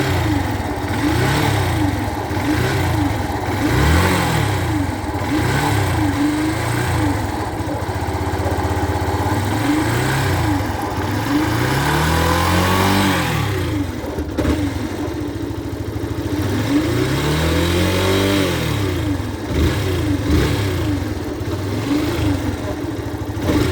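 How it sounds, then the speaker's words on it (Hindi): A Yamaha FZ motorcycle engine with a noise from inside, near the crankshaft, idles and is revved repeatedly, each throttle blip rising and falling close by, with the engine running the whole time. "कहीं इंजन के अंदर से आवाज़ आ रही थी"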